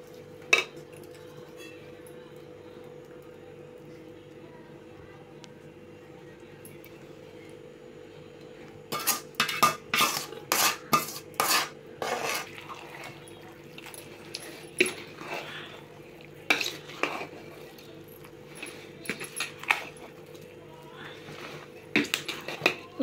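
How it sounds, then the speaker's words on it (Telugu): A spoon stirs oil into fresh mango pickle in a metal pot, giving a burst of sharp clinks and scrapes after a quiet stretch, then intermittent clattering against a steady low hum. "నూనె కొంచెం కొంచెంగా పోసుకొని బాగా కలుపుకోవాలి"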